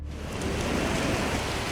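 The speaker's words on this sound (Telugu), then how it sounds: "రాష్ట్ర వ్యాప్తంగా చాలా జిల్లాల్లో బుధవారం ఉదయం నుంచే కుండపోతగా వర్షం కురుస్తోంది." Heavy rain pours down in a dense, steady hiss during a monsoon downpour in Telangana, loud and unbroken after a brief quieter start, with no voices.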